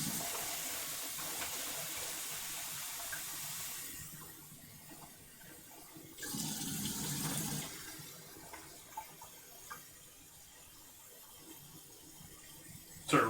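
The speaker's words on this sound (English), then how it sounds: "Sort of rinses out the bag at the same time as using it to fill the pan." Water pours from a bag into a cooking pan while pork wonton and cabbage soup is being made. It is a steady close splash and gush that swells briefly partway through, with no talk.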